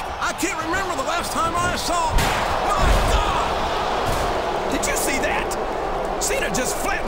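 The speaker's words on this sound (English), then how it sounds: "Cena just flattened the Heartbreak Kid with that steel chair." Steel chair strike in WWE SmackDown vs. Raw 2007, a sharp impact landing over a dense, loud arena crowd din, with a heavy thud about midway through.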